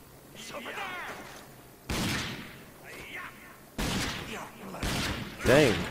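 Pistol shots in a video game ring out as several sharp, loud bursts spaced a second or two apart, with game sounds and effects between them.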